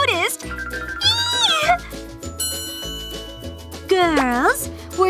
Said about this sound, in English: Meow! We love cats!